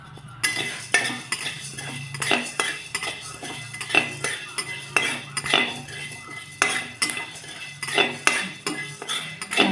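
A metal spoon clinks and scrapes against a pot as masala spices go in, giving a run of sharp, irregular knocks and rattles close by, with no talking.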